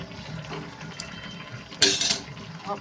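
Dried fish and okra tamarind curry with curry leaves stirred in a pot: a spoon scrapes and clinks against the metal pot over a low steady background, with one sharper, louder scrape near the end and no talking.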